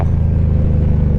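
An Indian Scout motorcycle fitted with a Reinhardt exhaust, rumbling steadily with a deep, throbbing low note, close and loud with no talk.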